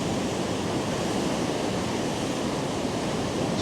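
Steady, dense rushing water roars without a break, a broad continuous wash of noise with a gusty edge, like a nearby waterfall at Great Falls Park on a windy day.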